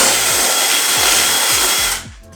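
A power drill bores through a screw hole in a wood table piece to widen it, a steady loud whirring grind that stops abruptly near the end.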